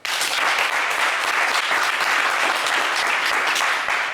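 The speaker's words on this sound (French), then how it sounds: "Allez, ça s'applaudit" Studio audience at a French TV game show bursts into dense, sustained applause, loud and even from start to finish with no talk over it.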